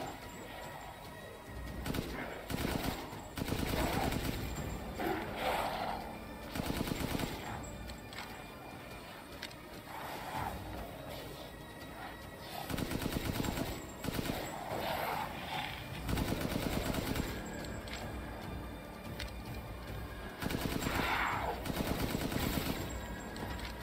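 Repeated bursts of gunfire in the video game Resident Evil Village come in several loud, dense volleys with short pauses between them, mixed with game sound effects.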